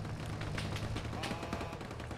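Gunfire in a military shooter game, with a player in armor under fire: dense, continuous crackling shots and bursts layered over a low rumble throughout, steady and fairly loud, with faint voices in the mix.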